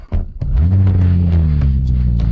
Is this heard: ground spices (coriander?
no